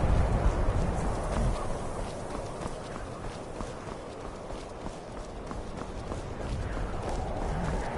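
Horses in the video game Skyrim, hooves clip-clopping at a run in a rapid rhythm, moderately close, louder at the start and end.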